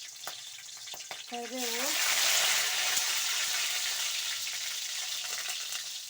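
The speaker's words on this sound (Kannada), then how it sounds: "ನೋಡಿ ಸಾಸಿವೆ ಎಲ್ಲ ಚಟಪಟ ಅಂತಿದೆ." Mustard seeds and curry leaves crackle in hot oil while tempering for vegetable chitranna; a brief spoken word comes just before a sudden loud, sustained sizzle that slowly fades.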